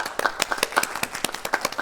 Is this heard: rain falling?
no